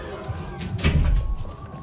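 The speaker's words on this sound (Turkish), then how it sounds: "Kapıyı kapat." Indoors, a door is pushed shut with a single dull, heavy thud and a brief rattle midway through, amid room noise and voices.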